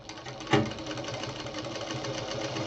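A sewing machine runs over an earlier line of stitching on a quilt at its longest stitch setting, giving a steady, close mechanical whir with a rhythmic needle knock and one brief louder thump.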